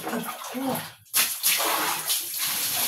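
Water pours and splashes steadily into a pot in an outdoor home kitchen, a loud close rushing stream with a short break, while people talk over it.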